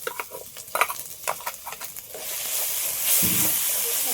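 Lentil and prawn paste stir-fried in a pan, with spoon scrapes and clinks in the first half, then a louder, steady sizzle swelling near the end.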